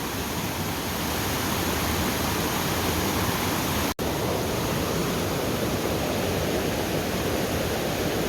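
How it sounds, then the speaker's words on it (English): Steady, dense rush of a creek flowing toward a river, a continuous broadband wash of water that stays loud and even throughout, close by with no voices. "That's one of the many creeks that feed the river."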